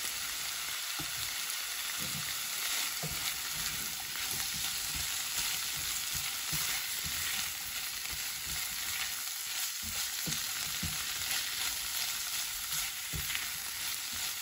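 Fresh chopped garlic fries in a pan alongside seared salmon, giving a steady, close, even sizzle that carries on without pause and without talk.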